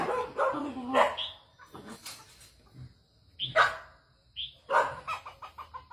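A two-month-old Thai Ridgeback puppy and a 26 kg Malinois scuffle, with repeated yips, growls and sharp barks coming in bursts, loud and close, and a rooster crowing faintly in the background.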